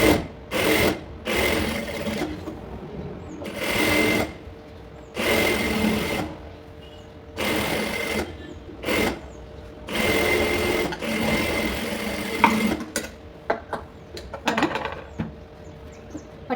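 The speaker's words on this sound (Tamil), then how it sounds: "பட்டி வந்து இது வந்து நான் ஓவர்லாக் போட போகிறேன்." An overlock sewing machine runs in repeated bursts of a few seconds each while stitching a blouse lining, its fast rattling whir starting and stopping close by, with short pauses and small handling clicks between runs.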